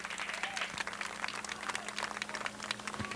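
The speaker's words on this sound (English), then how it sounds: "Give John a big round of applause." A crowd claps for a trophy winner at Eugene Speedway, with scattered clapping under a low mechanical hum, faint and continuous.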